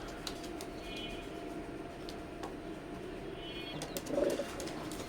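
A pair of Sylheti Kamagar pigeons coo softly in a quiet space, with a few faint, brief calls over low background hiss and a slightly louder burst near the end.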